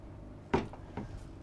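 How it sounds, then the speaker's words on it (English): Pantograph hinge door on a Sunseeker Superhawk 55 motor yacht swinging open and locking into position, heard as a close knock followed by a second softer clunk against quiet background. "we've got these rather beautiful pantograph hinge doors. So if I unlock this, lift it up, the whole door swings out"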